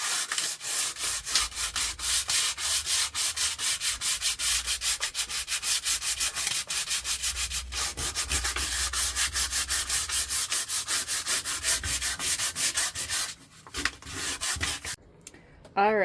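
Steady, continuous sanding on a truck camper countertop, a loud rasping rub running close up for most of the clip before tapering off near the end with a few scattered knocks.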